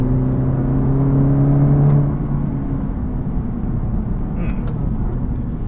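A 2020 Cadillac CT4 V-Series engine drones loudly from inside the cabin, a steady low hum with a rising tone that eases off after a couple of seconds and settles into road roar.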